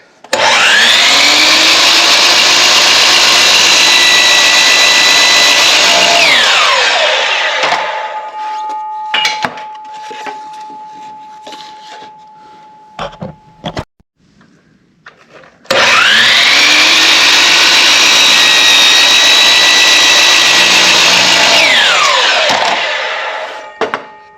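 Miter saw slicing wooden boards at an angle for a birdhouse: two loud, sustained cuts, each spinning up, whining through the wood and winding down, separated by quiet handling clatter and a faint steady tone.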